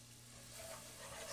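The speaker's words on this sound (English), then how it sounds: "Stir it in." Soft, continuous scraping and light sizzling as cold milk is stirred into a cooking casserole sauce, steady and close with no voices.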